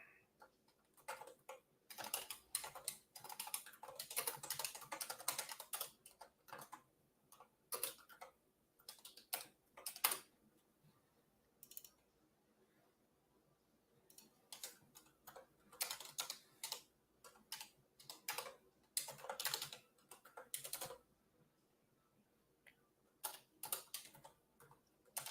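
Quiet, close typing on a computer keyboard, with irregular bursts of rapid key clicks separated by short pauses, alone without talk.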